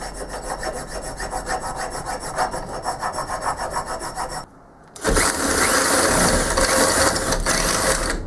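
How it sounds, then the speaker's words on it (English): A hand file rasps across a metal tailstock part in steady, close back-and-forth strokes, pausing briefly midway before resuming with louder, denser scraping. "and file down that part, of course"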